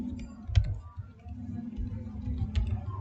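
Typing on a computer keyboard, a few scattered key clicks up close over a low background hum.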